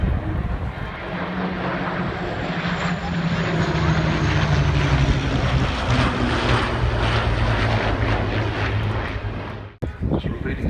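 A Spitfire flying in formation with a Meteor and a Warhawk at an airshow, a loud sustained engine roar that holds steady for about ten seconds before cutting off abruptly near the end.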